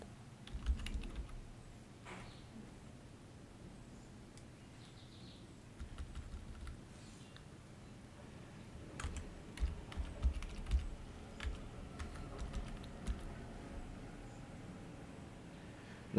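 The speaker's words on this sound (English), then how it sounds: "And then type in the password you want to be using." Keystrokes typing a password on a computer keyboard while creating a Riot Games account, faint and close, in scattered bursts of rapid clicks with short pauses against a quiet room hum.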